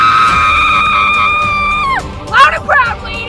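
A group of women yell loudly at a fellowship event for interpretive dance. A held tonal sound comes first, then bursts of close, strident shouts and whoops break out near the end.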